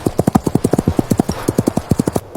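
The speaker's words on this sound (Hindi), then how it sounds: "अपने घोड़े पर सवार हुई और बिना पीछे देखे जंगल की तरफ निकल गई" A horse's hooves clip-clop in a brisk, steady rhythm of close, distinct strikes as a princess rides away from the stables toward a forest, continuing without pause.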